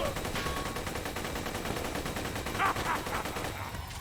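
Rapid, steady automatic fire from a Spinnigun machine gun in the Borderlands video game, dense and continuous across the whole stretch, with a few sharper bursts near the end.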